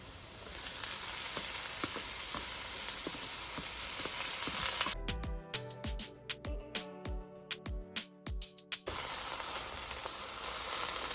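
Pepper mix sizzles loudly in a thin layer of hot oil, a steady crackling hiss that breaks into sharper bursts and pops as the peppers hit the pan, then settles back into a continuous close frying sizzle.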